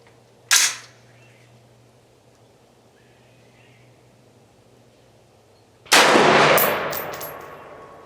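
Two sharp, loud rifle shots from a Radical Firearms RF-15 firing PPU 62 grain ammunition, several seconds apart, with the second trailing off in a longer echoing decay over quiet outdoor background.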